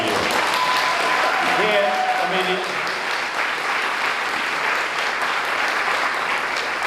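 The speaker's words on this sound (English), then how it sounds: "how about a big round of applause for what Aaron Deal does year after year?" Sustained applause from an audience at a teacher-of-the-year event, loud and continuous, with a brief voice and a few tonal sounds near the start under the clapping.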